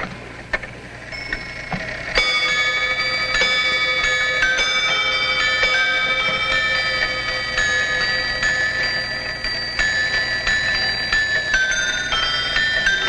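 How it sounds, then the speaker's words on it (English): Wooden Dutch clock with trip hammer chimes ringing a run of bright, sustained bell tones, struck one after another in a steady sequence and overlapping as they ring out, loud and close with no speech. "A second example of Dutch craftsmanship, a wooden clock with trip hammer chimes."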